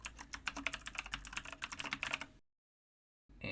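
Rapid, close clicking of keys as code is typed on a computer keyboard, steady for about two seconds before stopping, then silence and a short burst of keystrokes at the end.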